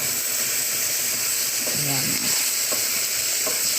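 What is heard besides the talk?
chicken frying in a pan without cooking oil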